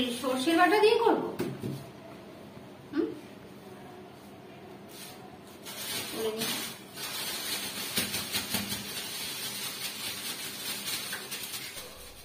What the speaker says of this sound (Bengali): এক পাশে হচ্ছে ওই পটলগুলো ভাজা করছি, মানে ভেজে নিয়ে তারপরে সর্ষেটা বেটে দিয়ে দেবো